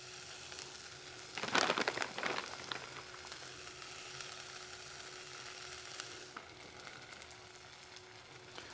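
Cheese hits a hot Dezin 600-watt mini electric skillet with a little oil residue, giving a sudden close sizzling burst that eases into a steady, faint hiss.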